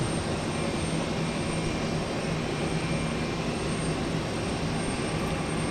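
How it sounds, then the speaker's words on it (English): A United airliner in Continental Heritage livery takes off at Houston Intercontinental airport. Its jet engines give a steady, loud broadband roar that stays constant throughout with no voices. "United Heritage livery took off. It was the Continental Heritage livery."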